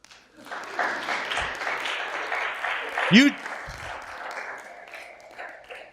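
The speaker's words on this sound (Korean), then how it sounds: "자, 박수 쳐주세요." An audience at a lecture breaks into clapping, moderately loud and continuous, with a speaking voice over it and a brief sharp sound near the middle.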